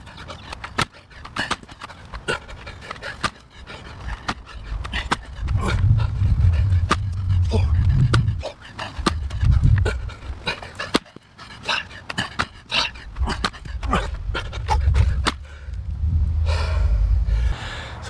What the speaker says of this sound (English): I'm already breathing hard just doing one